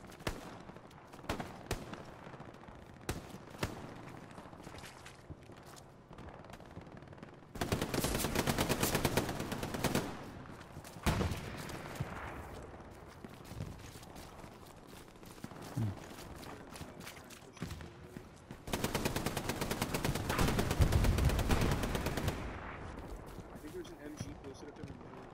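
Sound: machine gun fire in the video game Hell Let Loose

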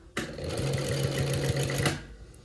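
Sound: sewing machine sewing a decorative topstitch

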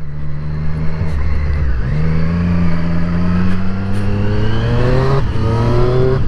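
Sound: 2020 Triumph Street Triple RS motorcycle engine

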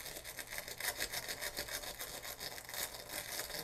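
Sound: scrubbing a Magnavox DVD/VCR mechanism

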